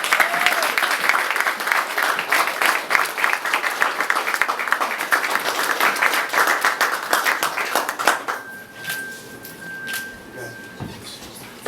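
Audience applause at a public celebration in New Orleans, dense continuous clapping for about eight seconds that then thins out, leaving scattered claps and a brief steady tone near the end.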